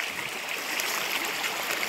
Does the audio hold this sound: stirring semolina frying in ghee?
no